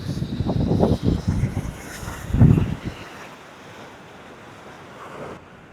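Waves wash onto a small beach near Koroni, Greece, with heavy wind buffeting the microphone. A few loud surges come in the first seconds, then settle into a softer, steady rush.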